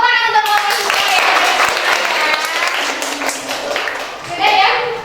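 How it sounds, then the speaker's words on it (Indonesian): Schoolchildren in a classroom clap for the winning green group, a dense, steady burst of close applause lasting throughout, with a few young voices and a speaking voice mixed in. "tepuk tangan untuk kelompok hijau ya"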